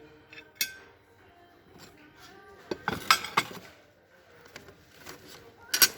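Small spoons and dishes in a home goods store are handled, giving scattered bright metallic clinks and clatters, sparse at first and then clustering into a few sharp bursts, fairly close and alone.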